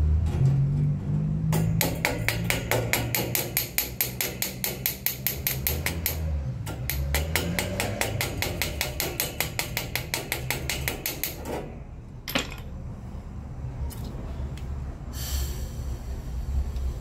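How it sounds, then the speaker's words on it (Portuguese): An air compressor in a welding workshop runs with a steady, loud, rapid mechanical clatter that continues for several seconds before cutting off abruptly, leaving a quieter background with a few faint knocks. "Vamos desligar o compressor. Desliguei o compressor."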